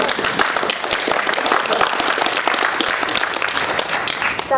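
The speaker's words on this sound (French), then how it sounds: "Et on peut l'applaudir." Dense audience applause fills a French literary festival panel hall, a loud, continuous wash of many hands clapping close by with no break.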